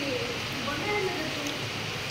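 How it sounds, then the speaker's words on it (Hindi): Light rain beginning to fall outdoors, a steady broadband hiss throughout, with faint voices in the background. "ना वर्षा स्टार्ट हो"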